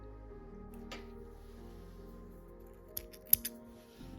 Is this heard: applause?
no